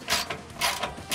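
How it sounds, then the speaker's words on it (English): A 9/16 wrench turns on an RV landing gear jack, a Lippert Ground Control 3.0 system, giving several quick ratcheting clicks in short bursts, close and fairly loud, with no talking. "My 9/16 wrench."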